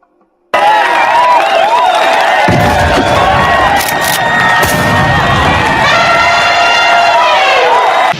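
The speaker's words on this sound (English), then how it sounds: "give Terry Patty, Nana Amun, big noise, hand claps, a couple of the sounds." A group bursts into loud, sustained cheering and excited shouting that runs unbroken for about eight seconds after a brief silence, with voices rising and falling together.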